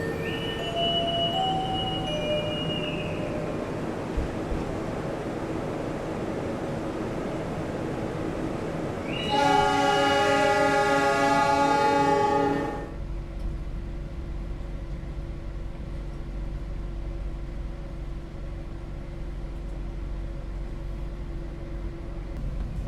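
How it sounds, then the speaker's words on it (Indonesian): The Brawijaya passenger train at Kertosono station, heard as steady rumbling rail noise with a mid-clip stretch of bright, layered tonal squeal or horn. A continuous low station and wheel rumble follows. "kereta api Brawijaya datang dan berangkat dari stasiun Kertosono"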